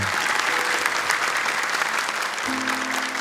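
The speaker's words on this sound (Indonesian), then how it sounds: "Boleh tepuk tangan untuk Dewan dan juri kita." An audience at an Indonesian Quran memorisation competition broadcast claps in a full, steady burst of applause for the council and judges, with a brief tone sounding underneath near the end.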